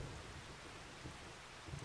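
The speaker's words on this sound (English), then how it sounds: "But it sounds like it's raining." Wet snow falling outdoors in September in Starbuck, Minnesota, giving a steady, soft, rain-like hiss with scattered patters, faint and continuous with no voices.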